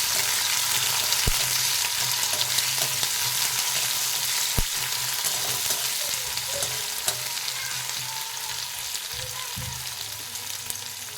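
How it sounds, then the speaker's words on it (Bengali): Sliced onions and green chillies fry steadily in a hot pan, a continuous close sizzle with a few sharp clicks of a utensil against the pan and occasional stirring scrapes, no voices. "দিয়ে দেবো কেটে রাখা পেঁয়াজ আর লঙ্কা, কাঁচা লঙ্কা। ভালো করে ভেজে নেব পেঁয়াজটা লঙ্কাগুলো।"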